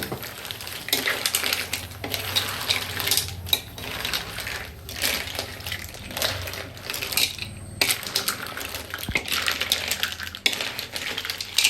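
Crab and garlic stirred in butter in a pan for Filipino butter garlic mixed seafood, with repeated scraping, clinking and crackling of the spoon and shells against the pan, sizzling underneath, no talking.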